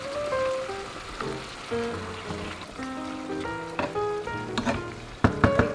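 Chicken liver goes into a sizzling pan of chicken giblets for adobo, making a steady crackling fry with a few sharp pops toward the end, heard over sustained tonal background sounds.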